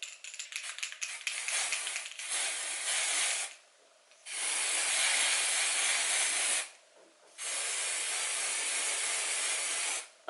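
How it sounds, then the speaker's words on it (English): Green hairspray hisses out of a can onto hair in three long steady bursts with short pauses between, close and fairly loud. "I have bought green hairspray."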